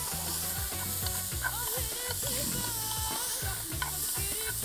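Onion and garlic sauté in a pan for a quail and cavatoni pasta dish, a loud continuous sizzle close up with repeated stirring and scraping strokes, no talking.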